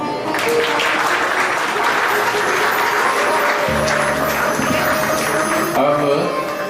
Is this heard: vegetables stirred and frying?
no